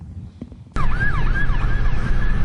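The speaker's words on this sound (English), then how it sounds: "This is video Jeremy Hambley recorded as police cars overtook County Line Road." Police car sirens wail during a chase along County Line Road near a power plant. After a faint rumble, a loud, close wavering yelp cuts in suddenly and holds steady over heavy engine and road noise.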